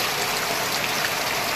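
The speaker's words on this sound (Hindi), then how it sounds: "तो अभी मैं जैसे घर आया हूँ वैसे बारिश चालू हो गई है" Heavy rain pours steadily outside a village house, a dense, even hiss of drops hitting surfaces that fills the short stretch with no pauses.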